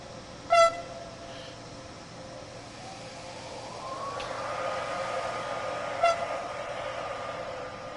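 A train in the video game Train Sim World 6 sounds two short horn blasts, one near the start and one later, while a hissing, rising engine or brake noise swells in between.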